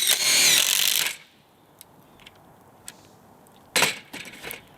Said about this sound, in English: now I'm gonna take the 3/8 inch impact wrench and set it up against the 1/4 inch impact driver and see how they do for speed